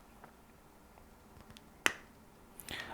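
A single sharp metallic snap as a crimp tool closes on a copper PEX crimp ring, heard up close against a quiet background with a few faint clicks before and after.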